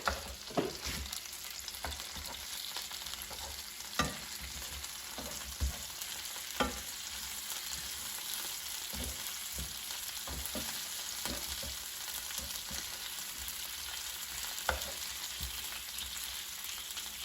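Chicken drumsticks pan frying with a steady, even sizzle throughout, broken by a few faint clicks and taps from the pan or utensils.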